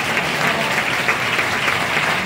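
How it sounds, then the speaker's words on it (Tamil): A congregation at Kirubasanam Church in Thanipadi gives a hearty round of hand-clapping, an unbroken, loud wash of many hands with no pauses. "கொஞ்சத்தனமா ஒரு கைத்தட்டி நல்லா கட்டுங்க"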